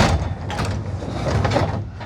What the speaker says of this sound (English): Let's open the door again and see if she stays up.